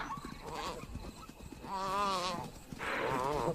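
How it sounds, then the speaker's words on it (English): A topi antelope gives a desperate, wavering bleat twice at night in the wild while being chased, with a narrating voice underneath and soft footfalls nearby. "The chaser can hear the desperate bleat of a topi."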